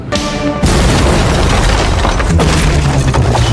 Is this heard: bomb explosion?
yes